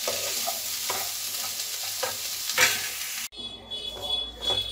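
Boiled potatoes and peas being stirred and mashed with spices in a pan for samosa filling: close, rhythmic scraping and frying sizzle that cuts off sharply, then quieter stirring resumes.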